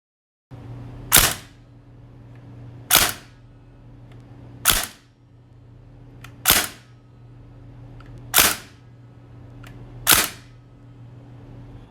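A Northeast Airsoft STEN Mk.5 gas blowback gun fires six sharp, evenly spaced shots about two seconds apart, each a loud crisp crack with a short gas hiss under a faint steady hum.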